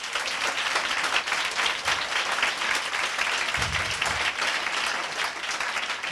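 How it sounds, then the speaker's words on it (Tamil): A church congregation at a Sunday gospel service claps hands in praise, a dense continuous wave of applause that stays loud and even throughout, with a brief low thump partway through. "நான் சொல்கிறது சந்தோஷத்தோட ஏசப்பாவை எல்லாரும் கைத்தட்டி மகிமைப்படுத்தணும்னு சொல்லி."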